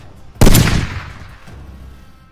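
A single loud gunshot rings out in a film scene, a sharp close crack followed by a decaying echo tail over about a second, with no talk over it.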